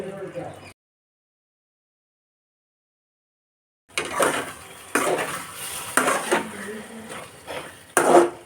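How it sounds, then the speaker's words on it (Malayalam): A spoon stirs mushroom masala in a pot, giving clattering scrapes and knocks against the metal in short bursts after a brief sound and a few seconds of silence. "ഇടയ്ക്കിടയ്ക്ക് ഇങ്ങനെ ഒന്ന് ഇളക്കി കൊടുക്കണം."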